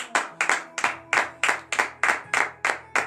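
A congregation claps in rhythm during a Monday morning prayer service in Benin, with nine to ten sharp, evenly spaced bursts of hand claps that sound close and fairly loud, with no voices over them.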